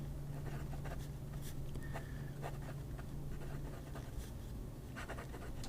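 A fine flex-nib fountain pen scratching across paper in soft, uneven strokes, close but faint beneath a steady background hum.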